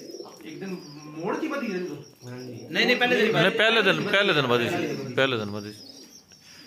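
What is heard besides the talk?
pigeons cooing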